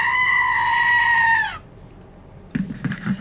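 A goat sound effect fires from a stream alert button: a loud, sustained bleating tone lasting about a second and a half, then cutting off, followed by a few quieter rustling noises.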